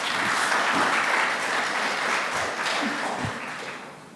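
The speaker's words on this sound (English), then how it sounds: "Can you give a big round of applause for Karen?" A room full of people applauds a presenter after a software pitch, a steady, dense round of clapping that holds for several seconds at moderate loudness before gradually tapering off.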